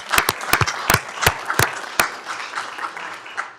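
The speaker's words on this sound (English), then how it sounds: "Let's give her a round of applause." Applause in a county commissioners court meeting room, a modest group clapping with several sharp, distinct claps standing out at first, then thinning into a softer, scattered patter.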